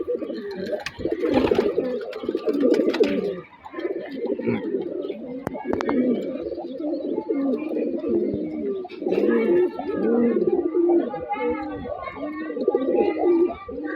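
Pigeons coo steadily and close by inside a loft, their repeated throaty calls running through the whole stretch while a voice talks at times.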